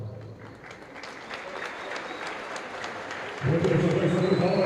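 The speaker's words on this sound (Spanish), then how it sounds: "Fuerte los aplausos, por favor." Audience applause at the opening ceremony of a futsal tournament, a steady wash of clapping from a crowd that swells louder partway through as a voice begins talking over it.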